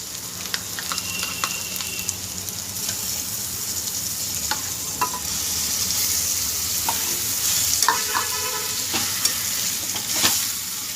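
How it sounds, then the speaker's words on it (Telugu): Minced mutton keema sizzling in a pan after the onions and ginger-garlic paste, stirred with scattered scraping clicks over a steady close frying hiss, no voices. "ఇప్పుడు మటన్ కైమా వేసేసుకుందాం."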